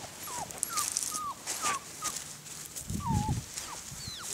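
A puppy whimpers repeatedly in short, high, rising-and-falling whines, close by, with light rustling and shuffling in between.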